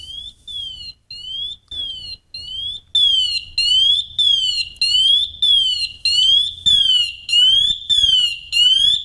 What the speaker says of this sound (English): There's our full alarm.